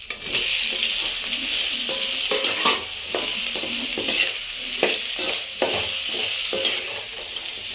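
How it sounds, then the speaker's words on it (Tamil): Boiled raw plantain sautéed in a pan for a stir-fry, a loud continuous sizzle with regular scraping strokes of a spatula stirring through it, close up and without speech. "இந்த வாழைக்காயை நல்லா வதங்கணும்"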